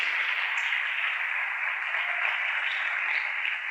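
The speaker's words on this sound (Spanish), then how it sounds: "Dale un aplauso a Él lo merece." A church congregation applauds during an evening service, producing a steady, dense roar of many hands clapping at once that holds at an even level throughout, with no talking heard over it.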